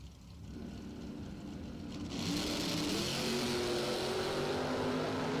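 A 1973 Nova doorslammer drag car launches down the strip. A rumbling engine builds into a loud, sustained roar from about two seconds in and holds steady and close, with no one talking.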